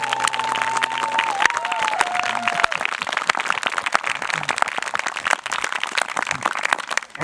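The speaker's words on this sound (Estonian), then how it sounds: "Teeme alustuseks kohe ühe suure aplausi iseendale." Audience applause, dense steady clapping from a crowd that carries on throughout, with a sustained musical tone fading out in the first few seconds.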